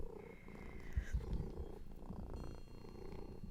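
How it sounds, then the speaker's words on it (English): Zizi, a female cat, purrs close to the microphone in a soft, steady rumbling rhythm, faint and continuous with small handling bumps. "Can you hear her purring?"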